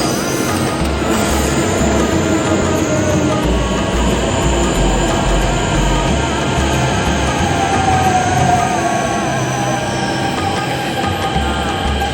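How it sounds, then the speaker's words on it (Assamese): A Delhi metro train pulls into a station with a loud, continuous rumble of wheels on rails and a rising whine, heard close by over the whole stretch. "চ' মেট্ৰ' দেখাই আছোঁ, মেট্ৰ' আহিলে মই দেখাই আছোঁ"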